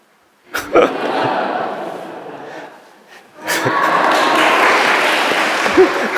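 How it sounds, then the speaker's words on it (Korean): A church congregation at Sunday worship claps for a one-year-old child. A first round of applause swells and fades, then a broader, louder wave of clapping rises and holds steady to the end. "박수."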